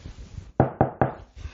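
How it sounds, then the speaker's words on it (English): Three sharp, evenly spaced knocks on wood, loud and close, with quiet background between them and no talking. "Knock on wood."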